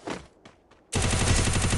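Gunfire in the video game Free Fire: a few separate sharp shots are followed by a loud, rapid burst of automatic fire that continues to the end.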